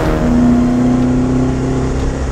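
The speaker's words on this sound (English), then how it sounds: "this is an engine that pulls right to the top" A 2020 Alfa Romeo Giulia Quadrifoglio's turbocharged engine holds a loud, steady roar close by, with a sustained whine running through it and no voices.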